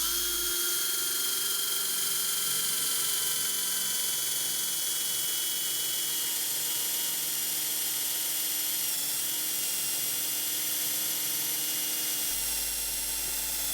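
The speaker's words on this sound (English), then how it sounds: "Now I'm drilling a hole of the same size with the Spur bit." A spur bit bores a hole through a piece of scrap timber, giving a steady, continuous high whine of the drill with a low rumble beneath, close and loud for the whole stretch with no talk.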